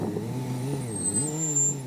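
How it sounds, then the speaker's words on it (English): A Saab 9-3 rolling down a ramp with a loud, close engine drone and a wavering, howling whine that rises and dips throughout, with no talking. "Something is screaming and howling as I drive down the ramp."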